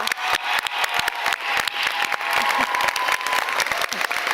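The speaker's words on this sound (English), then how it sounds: "Please join me in applauding Dr." An audience at a graduation ceremony at United Palace applauds Dr. Bernadette Bowden-Albala, with crisp and close individual claps rising out of a continuous, lively wash of clapping.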